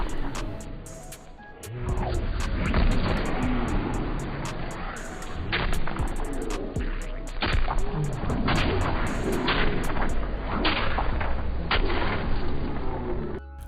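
Fujin's tornado combos in Mortal Kombat 11 produce a dense run of heavy hits, whooshing wind and booming impacts, loud and continuous with sharp cracks throughout.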